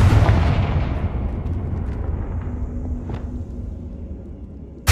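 In Hogwarts Legacy, a Confringo blasting spell goes off as a loud, close explosive burst with a heavy low rumble that slowly decays, and a sharp new hit arrives right at the end.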